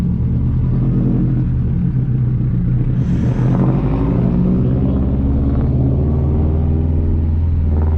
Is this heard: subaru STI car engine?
yes